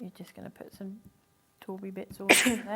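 A single loud sneeze bursts out near the end, between stretches of close conversational talk in an indoor craft session.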